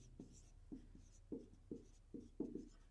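A pen scratching on paper during a math lesson, with short rhythmic strokes about three per second, close and quiet, and no talking.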